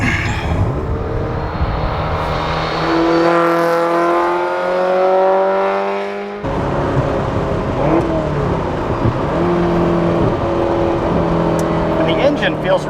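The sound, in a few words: 1978 Ferrari 308 GTS engine revving while driving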